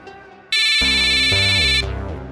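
A phone ringtone rings loudly in a TV drama scene, a bright electronic chime sounding for over a second over a low sustained musical tone.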